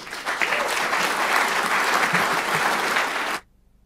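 An indoor audience applauds a guest lecturer as he is welcomed on stage: dense, loud, sustained clapping from many hands that stops abruptly after a few seconds.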